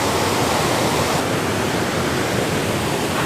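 A waterfall in dense forest rushes as a loud, unbroken broadband roar of falling water, steady throughout with no voices.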